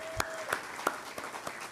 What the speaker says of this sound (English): A big round of applause for LDC Industrial Engineering